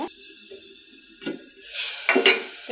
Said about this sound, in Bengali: আমি একটু নেড়ে দিব। মশলাগুলো কষানো হোক